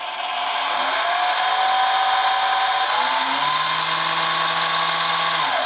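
A tiny antique Manson lathe runs at full speed, its motor whining and humming steadily and loud, the pitch rising through the clip as it speeds up, then dropping off at the very end.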